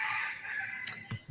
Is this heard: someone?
no